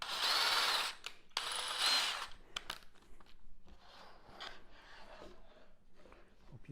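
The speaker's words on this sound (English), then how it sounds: "now I'm going to drill the starter holes for each of these four." A small power drill bores starter holes for an HO scale railroad crossing gate, with two loud sustained high whirs close by, then clicks, rattles and handling noise as the bit is changed and the work is moved.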